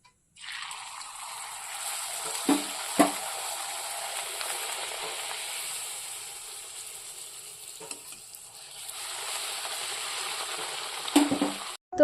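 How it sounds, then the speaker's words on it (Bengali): Luchi puffing in hot oil for a home dinner, a steady bright sizzle running without a break, with a few louder stirring clinks and splashes, close and unaccompanied by talk. "রাতে লুচি আর মাংস তাই ভাজতে চলে এলাম আমি"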